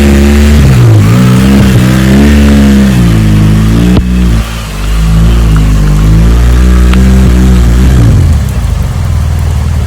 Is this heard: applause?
no